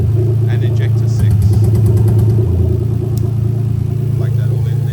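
A Toyota Crown 1JZ-GTE VVT-i engine idles steadily with a loud, continuous low rumble while people talk nearby.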